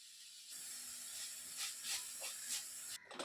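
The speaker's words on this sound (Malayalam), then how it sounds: "ഈ സവാള നന്നായിട്ടൊന്ന് വഴറ്റിയെടുക്കാം" Sliced onions, green chilli and curry leaves sauté in a pan with a soft, steady hiss. The sizzle is faint and close, with a few light bursts, then it drops off near the end.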